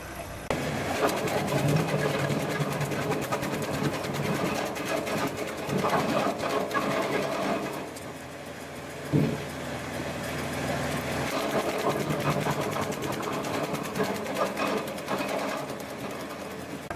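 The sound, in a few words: TRS110 branch logger running at 540 PTO RPM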